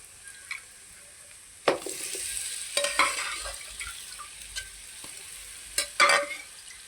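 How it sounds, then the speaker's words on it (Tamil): Mutton tossed in oil and masala sizzles steadily while a spoon scrapes and stirs the pan in sharp, irregular clanks, close and loud, with no talking. "மட்டனை போட்டு அந்த மசாலாலாம் மட்டன் உள்ளார நல்லா பிடிக்கிற அளவுக்கு நம்ம பரட்டி விடுவோம்"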